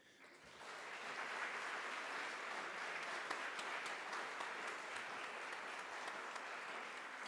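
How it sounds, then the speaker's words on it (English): Audience at a documentary discussion event applauds the presenters, a steady, dense round of clapping that swells in after a quiet start and holds evenly throughout, somewhat distant in the room. "I would also ask that we give another round of applause for our presenters today."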